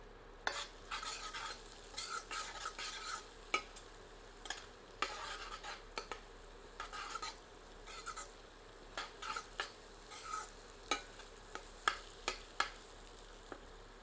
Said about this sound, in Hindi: एक बार करछी चलाते हैं।